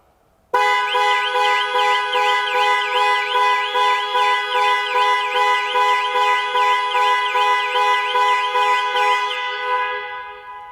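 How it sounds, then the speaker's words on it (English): A 2020 Jaguar F-Pace's panic alarm horn blares steadily and loudly, a repeating electronic warble that cycles rapidly for about ten seconds before starting to fade. "the horn will sound and the hazard lights will flash"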